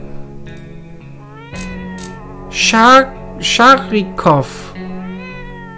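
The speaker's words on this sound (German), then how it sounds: "ich habe noch nie eine Katze hier gehabt" A cat meows several times in the video game 60 Seconds, with a series of short, bright, rising cries close up over a steady game music bed, and someone talking briefly.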